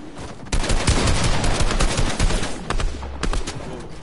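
Rapid bursts of gunfire in a building-and-shooting squads video game, loud and sustained with dense repeated shots, the player being hit through constructed builds.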